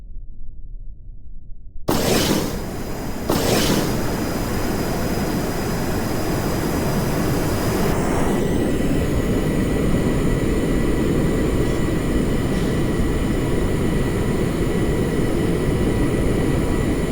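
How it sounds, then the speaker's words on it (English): Fusion-powered aircraft engines in Kerbal Space Program spool up into a loud, steady roar with a brief burst near the start, holding on continuously with no speech. "So let's fire up our fusion reactors"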